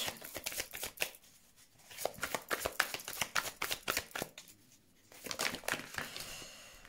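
Tarot cards are shuffled and drawn at close range: quiet, crisp riffling and slapping bursts with a brief lull partway through, and no voices.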